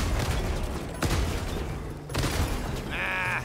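Rifle shots in Helldivers 2, a few loud cracks spaced about a second apart over dense game noise, ending in a short metallic reload-like ring.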